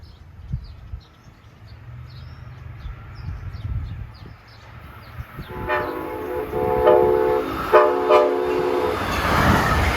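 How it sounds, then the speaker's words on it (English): Amtrak 645, a New York to Harrisburg passenger train led by its cab car, passes Princeton Junction, New Jersey, sounding a K5LA horn in repeated loud blasts as the rumble and wheel clatter build from faint to close. "here comes Amtrak 645, New York to Harrisburg at 12:47"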